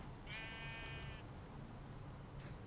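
A single sheep bleats once in a Minecraft game, a clear wavering cry lasting about a second over a steady background hum.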